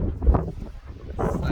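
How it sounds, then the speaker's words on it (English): Strong wind buffeting a microphone outdoors during a Montana mule deer hunt, heard as loud low rumbling gusts that surge, drop briefly, then return, with no talking. "It's really windy"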